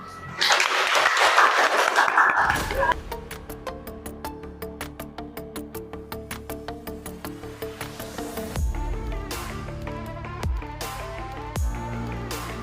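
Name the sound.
applause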